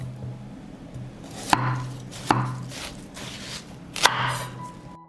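A knife chops through watermelon on a board in several separate sharp strikes, each with a short crunchy cut and a faint clatter, close and loud with quiet pauses between.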